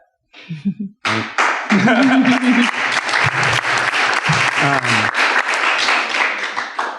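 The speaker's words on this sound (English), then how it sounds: "Thanks for starting that applause." After a brief spoken phrase, audience applause at a live business event breaks out and stays full and steady for several seconds, with a voice occasionally heard through it.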